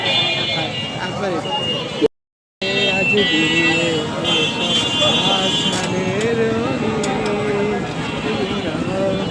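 Busy road traffic in a jam during Eid eve shopping, a steady mix of car and motorcycle engines with short buzzy horn blasts overhead, people talking throughout, plus one brief dropout.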